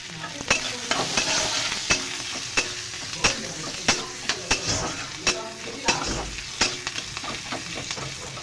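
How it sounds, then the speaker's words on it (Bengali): Onions frying in a pan while being stirred, a steady sizzle broken by regular scraping knocks of the spoon against the pan, close and fairly loud with no talk. "আগে পেঁয়াজগুলো একটু হালকা ভেজে নেবো"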